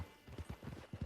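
Horse hooves clip-clop in the video game Red Dead Redemption Online, a quick irregular series of soft, muffled thuds at walking pace, faint and close.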